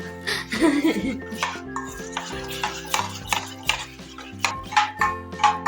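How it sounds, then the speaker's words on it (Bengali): A spoon stirs sattu flour into a sherbet drink in a glass, a series of light scraping, clinking strokes in an uneven rhythm, close by, under background music. "ব্যাস, ছাতুটা গুলে নিয়েছি।"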